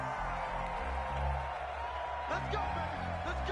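Stadium crowd from an American football video game on PS4, a steady broad roar with a swell of cheering near the end, running under a commentator's voice.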